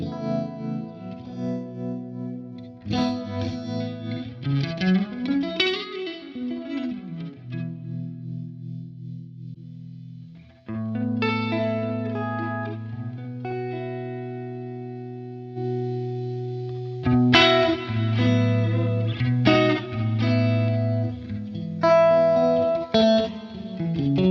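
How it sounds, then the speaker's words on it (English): Electric guitar chords and single notes through a Helix Native multi-tap delay and room effect, ringing out with repeating delay echoes and a roomy ambience, played alone with pauses between phrases. "I'm just going to turn down my multi-tap. This is giving me my kind of room sound"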